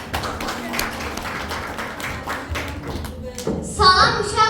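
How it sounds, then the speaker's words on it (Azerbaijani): Children applaud together in a fourth-grade school classroom at Boladı village school, a dense, steady patter of clapping for several seconds before a voice-like tonal sound cuts in at the end. "Alqışlayın uşaqlar."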